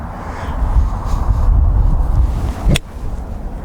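A 3-iron strikes a golf ball with a single sharp click on a windy course, heard close under constant buffeting wind noise on the microphone.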